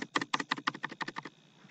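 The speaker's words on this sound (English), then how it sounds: "Guys can hear me clicking the key," Keys on a PC keyboard clack in a quick run of about a dozen crisp, evenly spaced presses, close and clear with nothing else over them, then stop.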